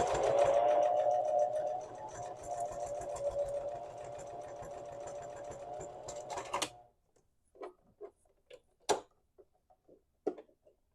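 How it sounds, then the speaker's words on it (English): A domestic sewing machine stitches fabric for a coaster bowl, running as a steady loud mechanical whir for about seven seconds and then stopping abruptly. A few faint scattered clicks and taps follow as the machine jams. "tip up your piece so it touches just the bottom of the nose of your machine and begin to sew"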